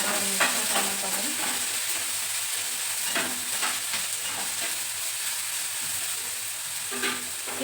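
Brinjal frying in a pan sizzles steadily up close. Repeated scraping and clattering strokes from a spatula punctuate the sizzle at irregular intervals, with no speech.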